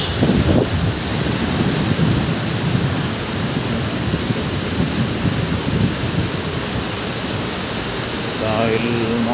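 Heavy rain pours steadily, with a low thunder rumble near the start, on a rainy Monday in the Ortigas area of the city; a wind-buffeted microphone hiss sits under it and a brief chirping tone rises near the end.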